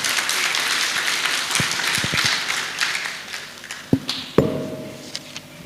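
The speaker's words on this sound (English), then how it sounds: "A big applause." Applause fills the hall at the official launch of a university's school of medicine and health sciences, a broad wash of clapping that thins out, punctuated by several sharp thuds and taps near the end.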